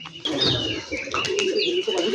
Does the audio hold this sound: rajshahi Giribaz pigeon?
yes